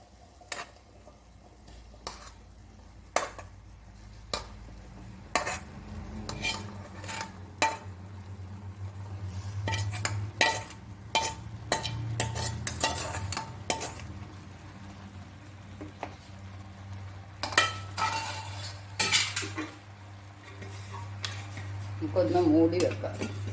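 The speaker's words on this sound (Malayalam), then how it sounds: "ഇതിലേക്ക് നമ്മൾ അരിഞ്ഞു വെച്ചേക്കുന്ന വേവിച്ച് വെച്ച കപ്പ ഇട്ട് കൊടുക്കുക" Boiled, chopped tapioca (kappa) tipped into a pan of bubbling masala and stirred, with scattered clinks and scrapes of a spoon against the pan over a steady low cooking hum.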